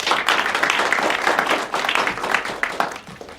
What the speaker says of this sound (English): Welcome our judges with a hand clap.